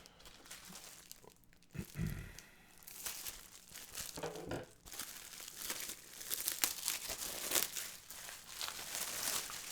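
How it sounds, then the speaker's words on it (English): Plastic wrap being peeled and crinkled off a Halo Wars 2 mouse pad: continuous close crackling and tearing rustles for about ten seconds, growing busier toward the end, with no talk. "I can't get the plastic off."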